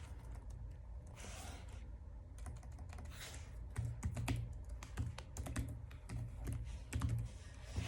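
Fingers typing on a computer keyboard, with a quick, uneven run of close, crisp key clicks that grows busier partway through, and no talking.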